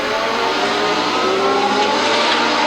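Legend cars race around the Indianapolis Speedrome short oval, a loud steady roar of several engines bunched together, droning continuously without a break.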